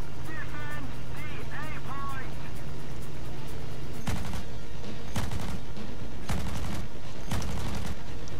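Aircraft cannon and machine guns of a Fw 190 D-13 fighter in War Thunder fire in four loud, separate bursts over a steady engine drone, with brief chirping sounds earlier.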